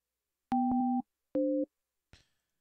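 A telephone busy signal while trying to call a guest for a Saturday night live stream: two loud, steady two-tone beeps, then a brief click, with no talking.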